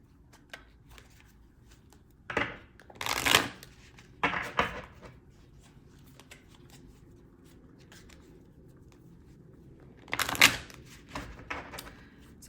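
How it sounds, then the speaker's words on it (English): Tarot cards being shuffled by hand in a few short riffling bursts separated by quiet pauses, close and moderately loud against a low background hum. "So usually these cards shuffle really easy"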